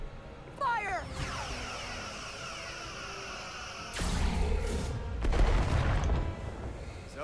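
Starship weapons fire in the video game Star Trek: Resurgence with sweeping, whining electronic bursts. A long sustained beam is followed by louder impacts and rumble, and the level swells toward the end.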